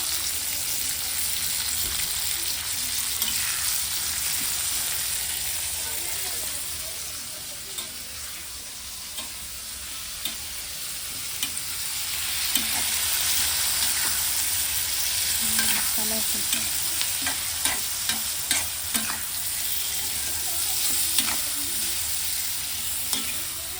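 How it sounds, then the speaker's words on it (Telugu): Paste-based ingredients for Telangana-style mutton curry are lightly deep-fried in oil, a continuous bubbling sizzle swelling and easing over time with scattered crackles and spoon scrapes close by, with no voices. "లైట్గానే డీప్ ఫ్రై చేస్తాను."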